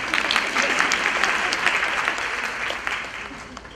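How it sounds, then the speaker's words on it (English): Audience applause at a Women & Leadership Symposium, a dense wash of many hands clapping steadily at moderate volume, fading slightly toward the end. "ladies, you should give a round of applause to these men"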